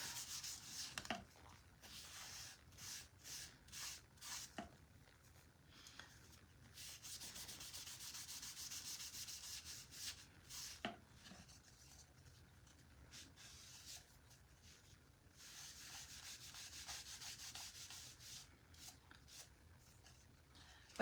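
Rhythmic scraping strokes of sandpaper rubbed over a wooden craft piece for a wonky scarecrow and sunflower kit, in repeated close bursts with short pauses, fairly quiet and with no talking.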